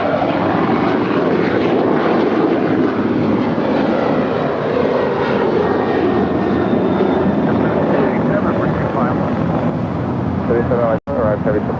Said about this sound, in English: We do have China Southern Cargo. It's a 777 coming in from Shanghai. Flight 447 about to touch down on 25 left.